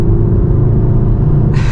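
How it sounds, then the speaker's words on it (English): A 2017 MK7 Volkswagen Golf R exhaust gives a loud, close, steady low rumble, with a brief brighter burst near the end. "You get a bit of a sound imposer, and you do also get a few little burbles."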